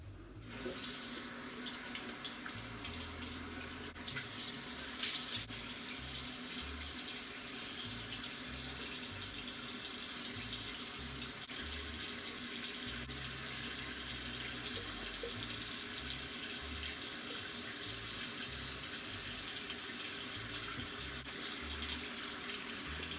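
Cold water pours steadily from a sink tap onto a towel, a continuous, even rush lasting the whole stretch with no talking.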